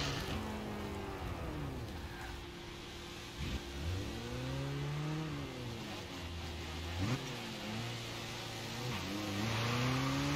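A car engine in a racing video game revs hard with a raspy, rattling exhaust note from a holed exhaust, pitch climbing and dropping through repeated gear shifts, loud and continuous throughout.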